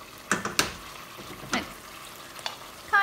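Chicken in sauce bubbling in a pan as it comes to a boil, with a low steady sizzle broken by a few sharp clicks and pops from the bubbling.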